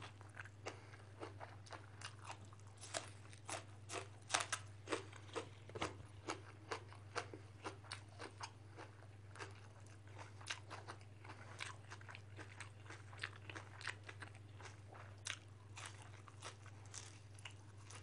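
Crunchy Thai-Lao papaya salad with fermented fish being eaten, with steady close biting and crunching bites repeating throughout, over a constant low hum and no talk.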